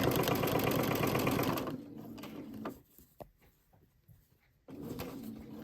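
A sewing machine hums steadily up close while stitching a dish towel, running continuously at first, then stopping with a few light clicks and faint handling before the motor starts up again.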